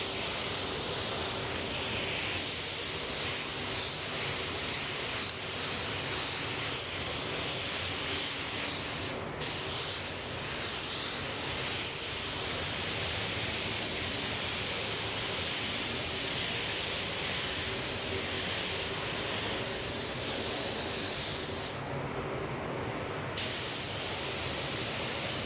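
A spray gun hisses continuously and loudly while blending paint onto a car bumper, with two brief breaks in the spray and no talk.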